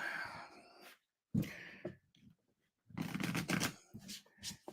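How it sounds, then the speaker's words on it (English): A deck of playing cards shuffled at a tabletop game session, with a few bursts of riffling and bridging, a longer dense flurry near the end, close and clear with no talk over it. "I'm going to shuffle up these cards"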